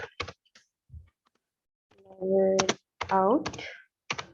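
Commands typed on a computer keyboard, with a few brisk key clicks heard near and quiet among stretches of speech.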